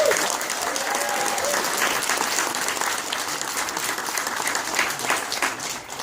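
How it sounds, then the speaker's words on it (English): Audience applause at a YMCA grand opening ceremony, a full, even roar of many people clapping that holds steady throughout and eases slightly at the end, with no speech over it. "let's give them a round of applause"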